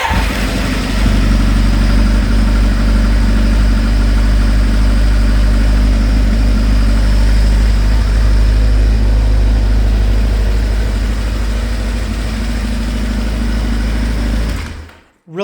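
Kawasaki Ninja 750 or Suzuki TL1000 or Bandit 1250 motorcycle engine running, a loud close steady idle with deep low rumble that holds for about fifteen seconds before abruptly stopping.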